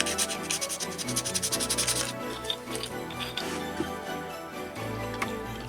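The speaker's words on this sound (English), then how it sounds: "I first sanded away the original finish and lightly weathered one of the caps." Metal bottle caps from Coke and other drinks are sanded to remove their original finish, a rhythmic rasping scrub at close range for about two seconds, then slower scratching and faint metallic tinkles.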